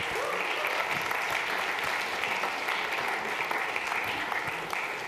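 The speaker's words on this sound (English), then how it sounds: "Round of applause for Jimmy, everybody" Audience applause at an arts and entertainment industry forum after an interview with a songwriter: dense, steady clapping from a sizable crowd that fills the room evenly for several seconds without a break.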